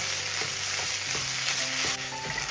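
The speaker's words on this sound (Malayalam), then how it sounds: "ഇനി നമ്മൾ ഇതിലേക്ക് ചേർത്ത് കൊടുക്കുന്നത് കൂമ്പ് വേവിച്ചെടുത്ത് വെച്ചതാണ്. മുഴുവനും അങ്ങിട്ട് കൊടുക്കുക. ഒന്ന് ഇളക്കി കൊടുക്കുക." Cooked banana flower frying in a pan, prepared with egg, gives a steady loud sizzle broken by regular scraping strokes of a spoon as it is stirred.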